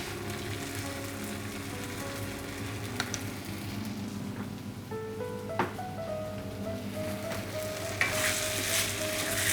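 Lamb karahi frying with ginger and garlic paste, a soft steady sizzle with occasional stirring scrapes and clinks of the utensil, moderately quiet, no talk.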